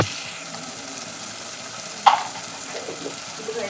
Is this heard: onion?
yes